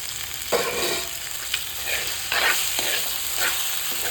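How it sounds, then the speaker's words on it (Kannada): Crab soup ingredients frying in a pan, a continuous sizzle broken by several scraping stirs with a spatula at a fairly even pace, with no voices. "ಮಿಕ್ಸ್ ಮಾಡ್ಕೋತೀವಿ ಚೆನ್ನಾಗಿ"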